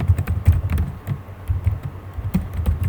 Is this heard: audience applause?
no